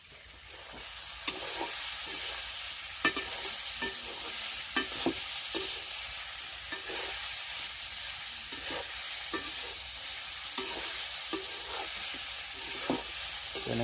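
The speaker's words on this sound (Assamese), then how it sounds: "এনেকৈ পানী অলপ দি ভাজি ল'ব আপোনালোকেও ধুনীয়াকৈ" Leafy greens frying in a pan with a little water added, giving a steady close sizzle with repeated scraping and stirring strokes, and no talking.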